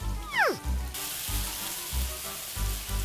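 Squid stir-fried in a wok for a seafood curry-powder dish, a brief squealing tonal chirp at the start giving way to a steady, close hiss of sizzling oil that continues to the end.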